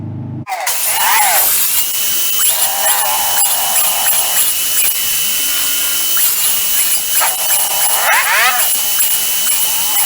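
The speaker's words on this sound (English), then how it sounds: "I'll take the skill saw, or I'll take the table saw, remove that" A table saw cuts through wood in a home workshop, its motor whining steadily and loudly throughout, with the pitch shifting as the blade bites in and again near the end.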